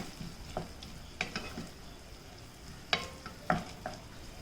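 Turmeric, Kashmiri chilli powder and ground cumin being stirred into a vegetable in a pan, with scattered scrapes and clinks of the spoon over a faint sizzle, no talking.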